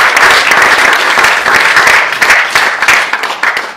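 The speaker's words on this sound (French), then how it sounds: "On peut donner une bonne main d'applaudissement au Seigneur." A church congregation at a revival camp meeting breaks into loud, sustained applause, dense clapping filling the room steadily before thinning slightly toward the end.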